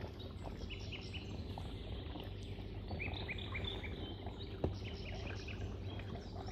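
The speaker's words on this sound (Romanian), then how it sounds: "Cred că se și aude ce frumos cântă păsările." Birds chirp and sing in scattered short calls over a steady low outdoor background during a spring fishing trip for shad, with no talk.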